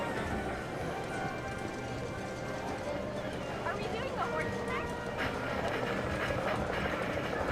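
Horses clip-clop around a racing and betting area in the GTA Online video game, a steady hoof patter under ongoing talk and background game noise.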